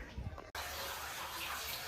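Water flows steadily at a cave site at Bhim No Kotho near Patanvav, a loud continuous rush that begins abruptly after a brief muffled stretch and stays constant to the end.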